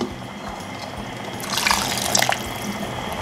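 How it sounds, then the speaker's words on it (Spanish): Boiling water poured onto rice in a pot for Peruvian arroz con pollo, a brief splashing, gurgling pour that swells in the middle over a steady background hiss, close and alone without talk. "voy a completar con agua bien caliente, hirviendo, hasta que me quede más o menos 1 dedo o 2 centímetros desde el arroz"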